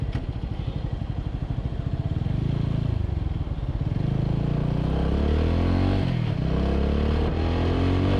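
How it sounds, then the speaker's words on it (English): A TVS Apache RTR 200 4V motorcycle with a double-barrel exhaust idles with a steady low thrum, then revs up and settles, the engine rising and falling close by. "Talking about the sound, the bike has an amazing sound."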